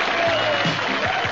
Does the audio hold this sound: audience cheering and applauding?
yes